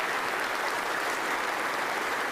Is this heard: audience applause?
yes